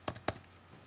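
A few quick clicks on a computer keyboard while typing code, two short bursts of keystrokes heard close and quiet, then near silence.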